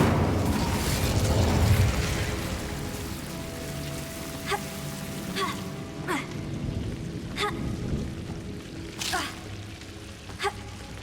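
An Incendio fire spell in the Hogwarts Legacy video game sends out a sustained crackling, hissing burst of flame with a few sharp snaps, fading into softer crackles.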